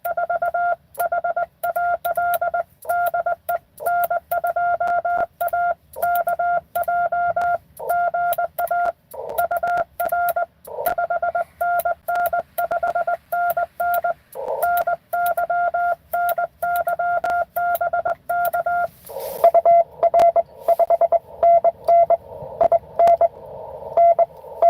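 Morse code keyed on a semi-automatic bug key over an amateur radio, a long run of clean tone dits and dahs in an uneven hand-sent rhythm, loud and close with no speech.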